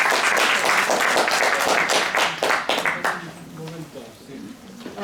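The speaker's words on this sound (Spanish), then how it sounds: "Un aplauso primero." Audience applause after a lecture on the work of historian Santos Juliá: dense clapping for about three seconds, then thinning to scattered claps as a voice begins speaking.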